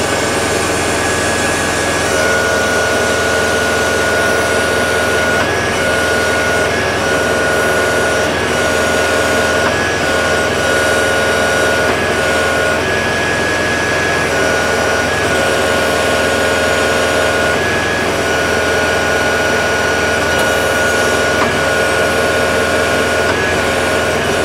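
A Kubota M7060 tractor engine works steadily under load while lifting 3,720 pounds of weights, a loud continuous drone with a sustained whine and no pause throughout.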